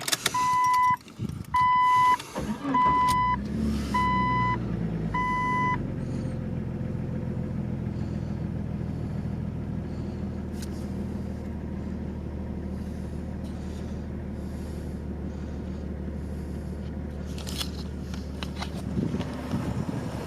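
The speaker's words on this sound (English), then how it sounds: "Just the freaking lifter tap. It's a noisy ass engine." A Jeep Cherokee XJ idles close by with a steady engine rumble carrying a light ticking from lifter tap, preceded by door-open warning chimes at the start.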